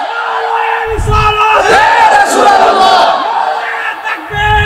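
A gathering of young men at a rally about Palestine chants the takbir in unison, a loud, sustained crowd shout that fills the space, with a lone voice leading before and after.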